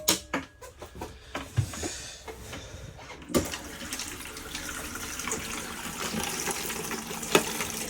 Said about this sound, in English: So just showing that the hot water system's working there as the water is getting up the temperature there.